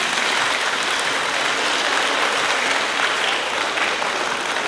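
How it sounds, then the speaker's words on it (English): A school choir audience gives a big round of applause for the Garfield choir as it exits, a dense, even wash of clapping from many hands holding steady throughout. "let's give them a big round of applause"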